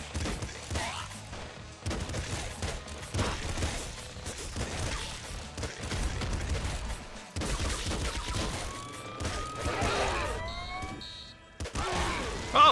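Rapid automatic gunfire from the Nuclear Throne video game crackles in dense bursts throughout, mixed with electronic zaps, rising synth tones and alarm-like beeps, loud and continuous with only brief pauses.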